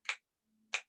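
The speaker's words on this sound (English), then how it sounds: "Then you put your hands up and snap, snap" Two crisp finger snaps about two-thirds of a second apart, close and clear against near silence, the beat of a children's song performance.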